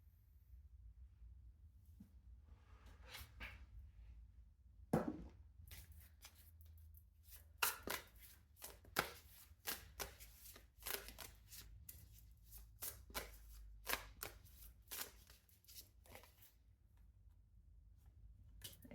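Tarot cards being shuffled by hand, a run of crisp riffling and slapping bursts that start sparse and grow busier, close and fairly quiet with no voice over them.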